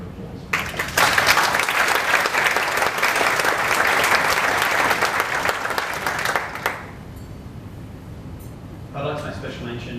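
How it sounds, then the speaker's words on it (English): Wedding guests at a reception in Australia give the venue staff a steady round of applause, loud and sustained for about six seconds before fading out, with a voice briefly heard afterward. "And I'd like for you to give them a round of applause."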